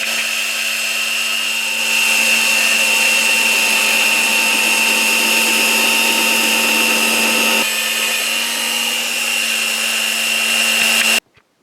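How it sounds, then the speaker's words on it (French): A floor-standing drill press boring a hole through the middle of a block, a loud steady motor whine with a constant drilling roar that shifts slightly partway through, then cuts off abruptly. "On va commencer par y faire un trou dans le milieu avec la perceuse à colonne."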